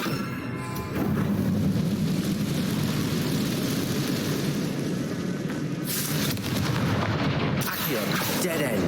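A Confringo fire spell blast from Hogwarts Legacy, a loud sustained roaring rumble of explosive fire and booms that swells and stays heavy throughout, with a sharper burst near the end.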